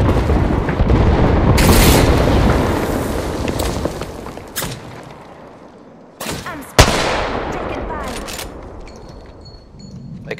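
R99 gunfire in the Apex Legends video game comes as loud bursts of rapid shots and sharp cracks amid shifting game noise, with quieter gaps between volleys.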